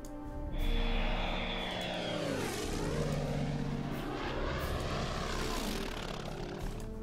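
Engine roar of World War II Pacific fighter aircraft in a strategy game, a steady loud drone with a propeller plane sweeping past in a falling pitch.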